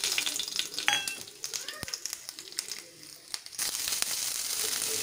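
Spices drop into hot oil in a pan and sizzle and crackle, with bursts of popping and stirring over a few seconds as a quiet voice speaks.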